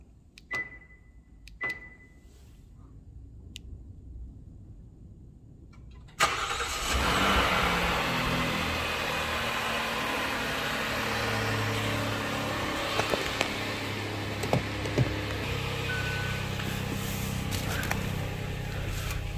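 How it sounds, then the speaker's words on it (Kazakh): A Hyundai Palisade engine cranks and catches about six seconds in, after a few faint clicks in near silence, then settles into a steady, fairly loud idle hum that runs to the end. "Қазір көлікті оталдырып, сіздерге бір қысқаша болса да тест-драйв жасаймыз."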